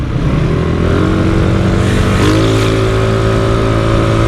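A Yamaha Mio 160cc scooter engine with a JVT center spring idles loud and close at around 1000–1200 rpm, a steady low drone that shifts pitch slightly midway and then holds.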